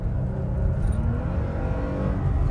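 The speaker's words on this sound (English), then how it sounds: "let's listen to that engine" Engine of a third-generation Toyota Tacoma pickup revs steadily from inside the cab while driving on a road, a continuous loud low drone with road noise and slight rise in pitch, no talk.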